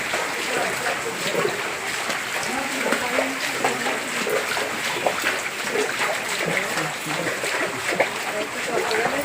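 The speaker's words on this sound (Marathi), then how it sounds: "हे बघा, ह्या घरात बघा केवढा पाणी घुसलं" Floodwater flows and splashes through village houses, a continuous watery wash under someone talking nearby.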